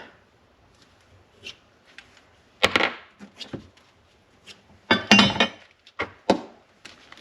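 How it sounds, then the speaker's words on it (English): Worn plastic A-arm bushings are pried and knocked out of a Ski-Doo REV MXZ 550F snowmobile, giving scattered close clinks, taps and scraping clatters with a few sharper knocks, and no voices. "let's pull these bushings out"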